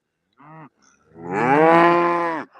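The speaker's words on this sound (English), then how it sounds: "walk through the middle of the cows and bring them on up" A cow in a herd on a cold, soggy morning moos close and loud: a short low call followed by a long, drawn-out moo, with no talk over it.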